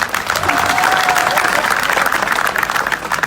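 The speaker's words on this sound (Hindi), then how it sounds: "तालियां कम नहीं होनी चाहिए" Steady, loud applause from a large crowd, continuous throughout with a few cheers mixed in.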